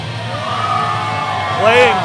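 A crowd at a wrestling fight event whoops and cheers in a sustained roar, rising into a louder swell of yells near the end.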